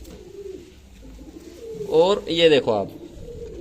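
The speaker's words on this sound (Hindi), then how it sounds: "ये हाई फ्लावर कबूतर है" High flyer pigeons coo in a short burst of soft, throaty calls close by, partly overlapping someone speaking.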